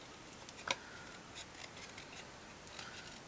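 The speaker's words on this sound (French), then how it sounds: "on va couper vite fait celle-ci." Scissors make one crisp snip through a paper card for a tulip greeting card, a single sharp cut followed by faint rustling of the card being handled in a quiet room.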